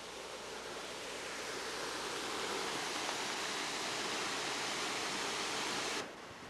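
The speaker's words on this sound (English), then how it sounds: "The creek comes out right there." A creek flows at a ford on a country road, giving a steady full rushing wash of water that holds constant and then drops off abruptly near the end.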